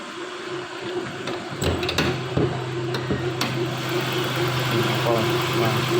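A 2003 Nissan Frontier pickup engine idles steadily with a low, even hum, while mechanical clicks and clatter sound near the start and someone talks over it.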